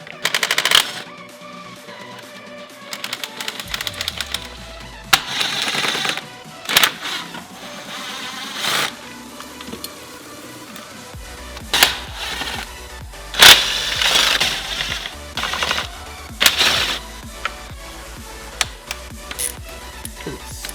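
A power tool removes intake manifold bolts on a Subaru EJ25 engine during a spacer install. Bursts of sharp, rattling impact hammering come up close and repeat between pauses, with low clunks and workshop noise between them.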